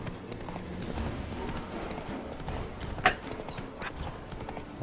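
Horse hooves clip-clopping steadily in The Witcher 3 video game, a moderate trotting rhythm under a dull background rumble, with one sharper louder knock partway through.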